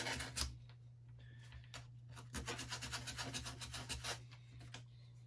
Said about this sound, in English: I would apply a little bit of a sanding on the surfaces, because there's connection points